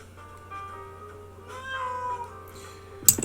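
A domestic cat meows several times in a quiet room, short drawn-out calls rising and falling, ending with a sharp clatter nearby.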